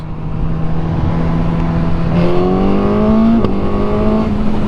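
A 2021 Suzuki GSX-S1000 motorcycle engine drones steadily in sixth gear at about 3,100 rpm, then its pitch jumps upward as it downshifts with an auto-blipper, holding a strong buzzing tone near the listener.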